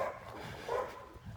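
Dogs barking amid a busy outdoor commotion on a pilgrimage route through Negreira, Spain, with a couple of bursts rising over steady background noise, moderately loud and fairly close.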